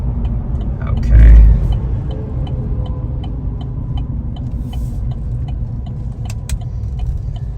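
A pickup truck cruises south along a rural road near the Cedar Gap Conservation Area, its steady engine and road rumble filling the cab, with a brief louder thump early on.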